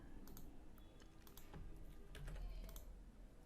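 A book title is typed on a computer keyboard in quick, light, close key clicks, clustered in short bursts over a faint background hiss.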